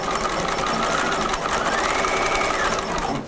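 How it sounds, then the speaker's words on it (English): A sewing machine stitches a seam on a cropped retro jacket, giving a loud, close, continuous motor whir with fast needle clatter and a slight rise in pitch partway through before easing off at the end. "And then I'm going to finish stitching there"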